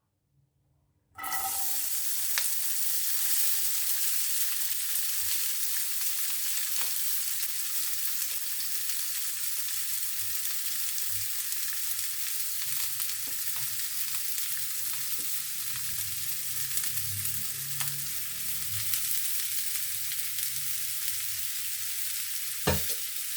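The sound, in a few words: broad beans frying in hot oil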